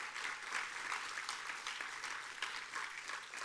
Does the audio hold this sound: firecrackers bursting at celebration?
no